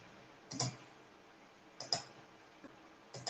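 Computer mouse clicking on buttons in a quiet room: three crisp, faint clicks spaced about a second or more apart over soft background hiss.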